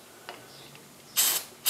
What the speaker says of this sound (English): And then I'm going to spray some of this